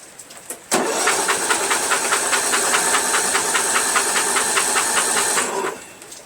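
Briggs flathead engine on a Murray lawn tractor cranking with no spark plug fitted, a loud steady whirring starter with rapid rhythmic chuffing and hiss for about five seconds, then it stops.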